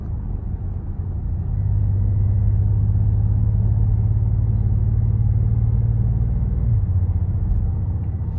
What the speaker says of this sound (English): the twin turbo inline six, it just, the way it pulls, the way it sounds